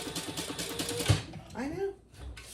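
A sewing machine stitching across the bottom of a wallet, giving a rapid run of mechanical clatter for about a second before stopping, followed by a person speaking nearby.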